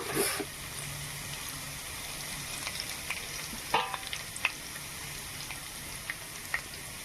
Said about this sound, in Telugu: బాగా ఫ్రై అవ్వాలండి అల్లం ముక్కలు